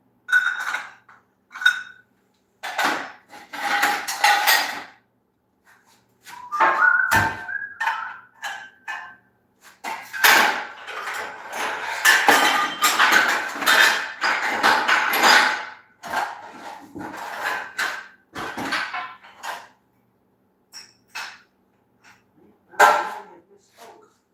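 Metal-on-metal hammer blows drive a part onto the pinion of a Ford 9-inch rear-end gearset using a piece of tubing, a series of sharp, close, irregular clinks and knocks in bursts, with some speech mixed in.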